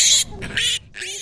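Pigs grunt and squeal on a small farm acreage near Ames that also keeps horses, cows, goats, turkeys and kittens, giving three loud, close bursts with short pauses between them.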